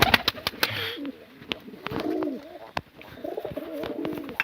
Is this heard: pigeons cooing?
yes